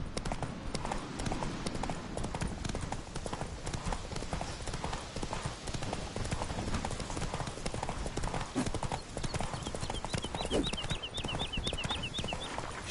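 In The Witcher 3, the horse Roach gallops hard, a fast steady clip-clop of hooves up close beneath game noise, with birds chirping faintly near the end.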